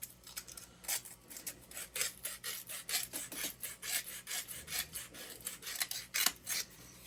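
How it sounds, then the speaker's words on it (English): Sandpaper rubs around the inside of a coin ring in quick, steady rasping strokes, close and fairly soft, with no talking. "I will take a little piece of sandpaper here."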